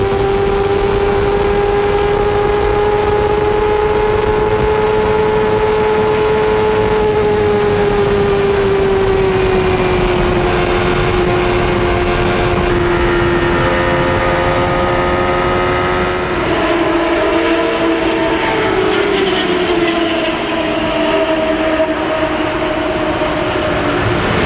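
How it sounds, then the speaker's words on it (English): CART Indy car engines at Michigan in 1993 drone loudly and steadily for the whole stretch, a sustained high whine whose pitch sags and shifts as the cars pass, with no voices over it. "You can hear the engines running."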